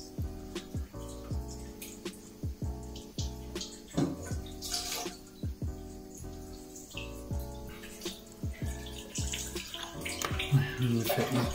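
Water runs and splashes from a tap as hands are wet while tying a balanced fishing rig with an olive sinker, an uneven trickle with patters and drips throughout.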